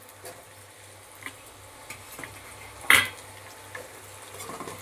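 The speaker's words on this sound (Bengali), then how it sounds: "এবার এটাকেও একটু নেড়ে নিচ্ছি পেঁয়াজ আর রসুনের সাথে" Capsicum and tomato stirred with onion and garlic in a pan for a stew: soft scraping and light clinks of a spoon against the pan, one sharper knock near the middle, under a faint low hum.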